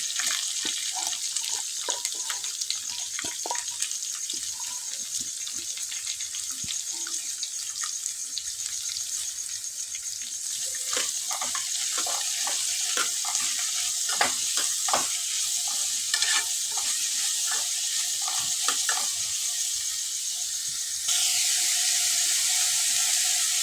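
Curry leaves, cut ginger and onions frying in hot oil for a drumstick and tomato curry: a steady sizzle with bursts of stirring and spatula clatter, then a louder hiss near the end, without voices.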